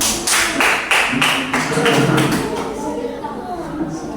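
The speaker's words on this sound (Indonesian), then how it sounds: "Ya, tepuk tangan dulu." A classroom of pupils claps hands together on a teacher's cue, a burst of fairly close, dense clapping that thins out over a few seconds, with voices mixed in.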